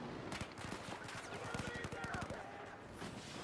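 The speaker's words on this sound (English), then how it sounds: "I'm getting shot at from everywhere." Rapid automatic gunfire in Battlefield 4 rattles in quick bursts, with dense shots crowding the middle, while a voice talks over the battle.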